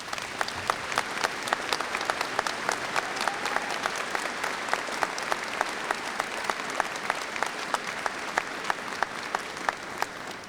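A convocation audience gives a long round of applause for graduates, steady crowd clapping at moderate distance with sharp louder claps standing out in a regular pattern throughout.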